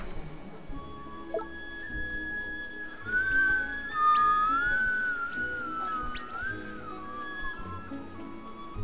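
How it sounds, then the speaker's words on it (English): A person attempts to whistle during a game session, producing a thin, wavering, breathy pitch that slides up and down for several seconds, faint over steady background game music. "That was me trying to whistle."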